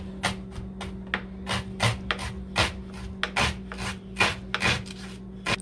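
A knife slices through food on a cutting board while rice à la grega is being prepared, giving about a dozen crisp, separate strokes in an uneven rhythm, close and clear over a faint steady hum, with no talking.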